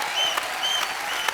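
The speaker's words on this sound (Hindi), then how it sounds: "ताली बजाओ, क्या बात है?" Studio audience applause on a Hindi TV comedy show, The Kapil Sharma Show, a steady dense wash of clapping filling the whole clip with a few sharper claps standing out.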